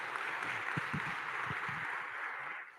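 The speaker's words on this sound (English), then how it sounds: "Big round of applause for that" Audience at a North Carolina tech conference giving a round of applause, a moderate, continuous wash of clapping that thins out and fades near the end.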